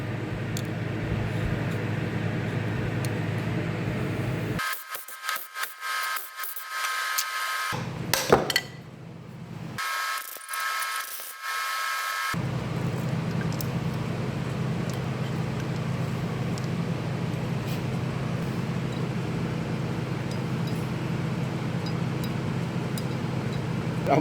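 A bolt is cut during a hydrostatic pump repair, heard as a harsh, loud grinding that runs in two bursts in the middle of the clip, with a steady mechanical hum before and after.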